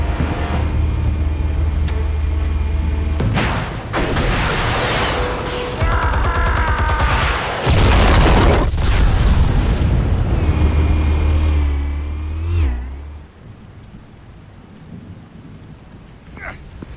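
Heavy explosions roar through a scene in Batman: The Telltale Series, long loud rumbling blasts with crackling debris, a sharp burst near the end before the noise drops away.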